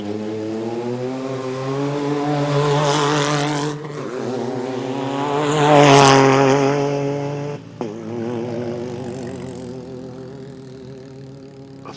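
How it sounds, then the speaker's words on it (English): Rally car number 308 launches off the start line of a desert stage at the Abu Dhabi Desert Challenge, its engine loud and close, revving in rising and falling harmonic sweeps with a brief cut and then pulling away. "This should be the 308 going off the line right here."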